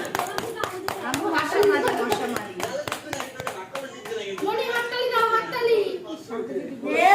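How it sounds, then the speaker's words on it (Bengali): Family members at a birthday celebration clap their hands in a fast, uneven burst of sharp claps close by, while adults and children talk and call out over them. "হাততালি দাও।"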